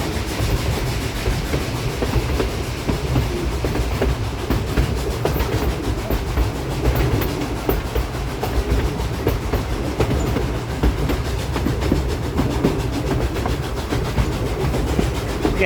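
Riding aboard the Cumbres and Toltec narrow-gauge steam train pulled by D&RGW locomotive #484, a continuous loud rumble of carriages with rhythmic clickety-clack over the rails, steady and close throughout.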